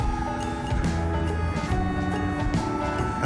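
Continuous motorway traffic noise heard on a countryside walk in Hertfordshire, a steady roaring drone of passing vehicles with occasional swells as louder ones go by.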